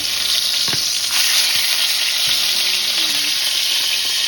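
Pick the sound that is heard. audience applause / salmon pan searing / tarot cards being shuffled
salmon pan searing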